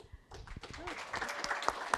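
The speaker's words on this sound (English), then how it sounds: "Can we give another round of thank yous to Stuart?" An audience at a design event gives scattered applause that builds from a few claps into a fuller round, with voices mixed in underneath.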